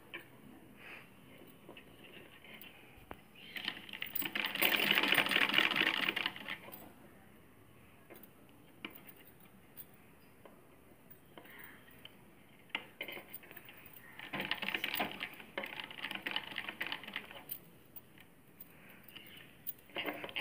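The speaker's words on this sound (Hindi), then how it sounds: "आप देख रहे हैं हम सिलाई रुक रुक के कर रहे हैं।" A sewing machine stitches a blouse sleeve in short runs, with two bursts of rapid mechanical whirring separated by pauses filled with quieter handling clicks and taps.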